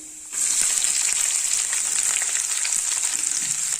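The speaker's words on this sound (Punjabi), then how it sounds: "ਅਦਰਕ ਔਰ ਲਸਣ ਚੰਗੀ ਤਰ੍ਹਾਂ ਭੁੰਨ ਹੋ ਗਿਆ ਤੇ ਇਹਦੇ ਵਿੱਚ ਪਾਵਾਂਗੇ ਆਪਾਂ ਹੁਣ ਪਿਆਜ਼" Onions drop into hot oil with browned ginger and garlic, setting off a sudden loud sizzle that holds steady and close for several seconds.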